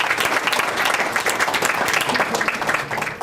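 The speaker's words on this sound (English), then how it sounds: "I think we need to give these fine men up here a big round of applause" A crowd at a school district send-off event for a trip to Ireland gives sustained, dense applause, loud and continuous throughout with no talking on top.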